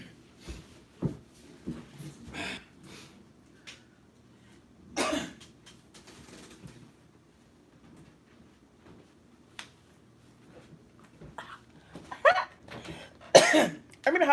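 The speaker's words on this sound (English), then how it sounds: "if you don't stop coughing" A person coughing indoors at home, several sharp, separate bursts scattered across the stretch with quiet gaps between them, some near and loud, with a cluster of harsher coughs toward the end.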